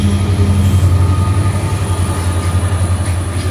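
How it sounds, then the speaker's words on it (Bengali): A train rumbles past close by as it approaches a bridge over the Teesta River, loud and continuous, with a low droning hum and rolling rail noise throughout. "এই দেখুন ট্রেনটা আসছে, আর ব্রিজে ঢোকার আগে হচ্ছে হর্ন দেবে।"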